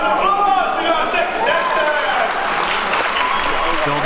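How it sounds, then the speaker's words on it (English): A crowd applauds a contestant at the Resonate 2019 event, steady clapping filling the space while an announcer talks over it. "a round of applause for our second"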